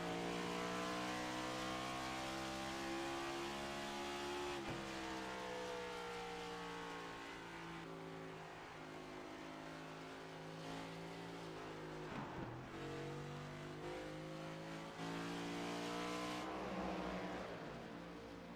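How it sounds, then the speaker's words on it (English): A race car engine in the iRacing sim at Iowa Speedway revs hard and climbs through the gears coming out of a corner, loud and close, with pitch dips at each shift as it accelerates away. "You heard Prince shake the car out of the corner"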